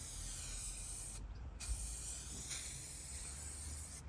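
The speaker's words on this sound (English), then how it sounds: "Rattle can in that bonnet." A rattle can sprays paint onto a car bonnet in the street, a soft continuous hiss with one short pause partway through, quiet and close, no voices.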